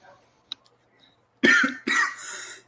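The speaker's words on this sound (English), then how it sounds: "Excuse my cough." Several harsh coughs from a person getting over an illness, a short burst followed by two longer, rougher coughs, fairly close and loud against a quiet room.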